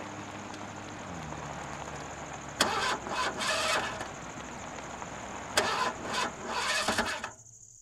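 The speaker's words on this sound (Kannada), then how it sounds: "ಏನೋ ಸ್ಟಾರ್ಟ್ ಆಗ್ತಿಲ್ಲ ಸರ್" A car engine cranks in two separate bursts of a second or so each without catching, fairly loud and close, over a steady background hiss, with no talking.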